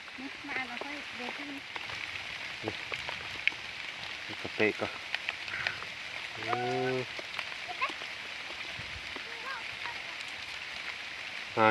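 Heavy rain pours down in a forest, a constant hiss of drops on leaves and ground that continues throughout while a voice talks over it now and then.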